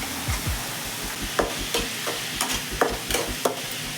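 Onions fry with a pinch of salt in a pan for an egg and drumstick-leaf scramble. A steady sizzle runs under repeated scraping strokes of a spatula stirring at a loose, uneven rhythm, close up.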